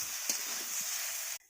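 Potatoes and spices including coriander powder and salt fry in a hot pan, a steady broadband sizzle with a few faint stirring scrapes before it cuts off abruptly near the end.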